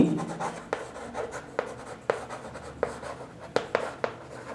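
Pen strokes scratch steadily during a Class 6 algebra lesson, with short tapping dashes and sharp tick-like marks repeating close up as figures are written, with no talk.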